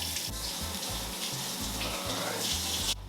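Water runs steadily from a kitchen tap while a food item is rinsed under it, a continuous close splashing hiss with low thumping underneath that cuts off abruptly near the end.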